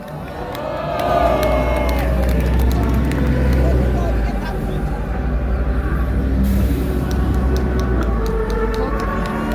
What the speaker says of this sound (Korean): 모두 박수를 한번 부탁드리겠습니다